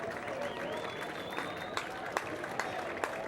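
A Benilde crowd at a high school baseball game applauds and cheers steadily from a distance, a continuous wash of clapping and voices with a few sharper claps and whistles, no single voice standing out.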